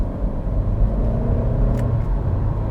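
A 2022 Honda Civic Hatchback with a turbocharged 1.5 liter engine pulling in second gear in normal mode, a steady low engine rumble and road drone heard from inside the cabin, with no talking.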